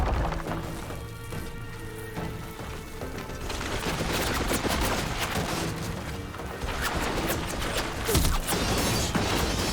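Gunfire in the video game Horizon Forbidden West: dense, rapid bursts of shots and impacts run steadily for about ten seconds, loud and busy, with a sharp crash near the end.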